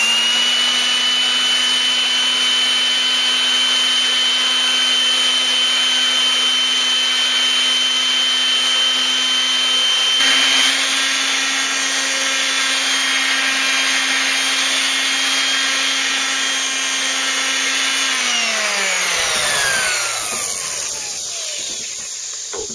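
A sander whirs steadily and loudly up close while polishing the aluminum surface of a table saw, a constant drone that slows and winds down near the end.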